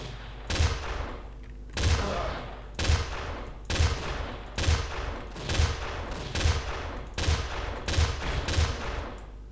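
Rapid bursts of automatic gunfire from a weapon in the first-person shooter Undergrounds, fired in about eight short, evenly spaced volleys that are loud and close, with no talk over them.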